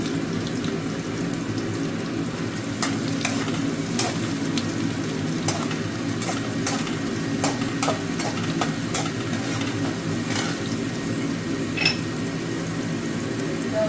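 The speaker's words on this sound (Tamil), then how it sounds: "ஒரு மீடியம் சைஸ் வெங்காயத்தில் பாதி குட்டி குட்டி பீஸாக நறுக்கி அதில் போட்டேன். அது நல்லா கொஞ்சம் ஃப்ரை ஆகட்டும்." Chopped onions sizzle steadily in a hot pan, with occasional scraping and stirring clicks over a continuous frying hiss.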